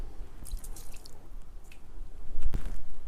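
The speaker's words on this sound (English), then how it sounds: "we're just going to add 2 tablespoons of the liquid smoke right to the top of the pork." Wright's hickory liquid smoke poured from a spoon onto raw pork in a Ninja Foodi pot, giving a couple of soft wet drips and splashes close by, the second one heavier, with no talking.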